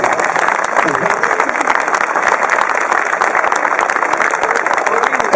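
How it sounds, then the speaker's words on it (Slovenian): Audience clapping at an outdoor public gathering in Maribor, a dense sustained wash of applause with crowd noise throughout. "zdaj pa res in aplavz za njih"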